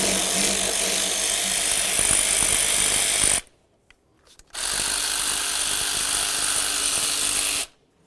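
Power tool zipping off a 10mm nut from the throttle body area on a Dodge Journey engine: two loud, steady whirring bursts, each about three seconds, split by a short quiet gap, close to the microphone.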